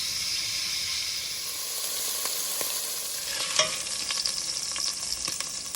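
Beef sizzles loudly as it browns in a pot, giving a steady dense hiss with occasional crackles and stirring scrapes, close and without voices.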